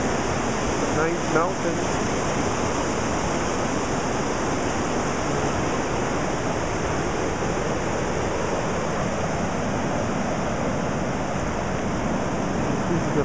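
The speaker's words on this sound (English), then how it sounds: "We're in the island of Tahiti, and look at this beautiful rapid." A river rapid in the Papenoo Valley on Tahiti gives a steady, dense roar of rushing water throughout, while a voice speaks briefly near the start.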